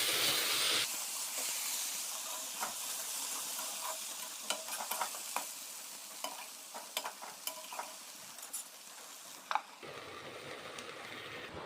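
Vegetable fry sizzling in a pan, a continuous close hiss with scattered pops and spoon clicks, and no talk over it.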